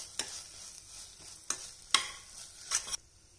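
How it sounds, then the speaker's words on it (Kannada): Ground sweet corn with ginger and garlic hits butter in a pan with no water, giving a soft sizzle punctuated by about five sharp scraping stir strokes, close and clear with no talking. "ಈ ರೀತಿ ಫಸ್ಟು ನೀರಿಲ್ದಲೇ ನಾವು ಇದನ್ನು ಬೆಣ್ಣೆಯಲ್ಲೇ ಸ್ವಲ್ಪ ಹುರ್ಕೊಬೇಕು"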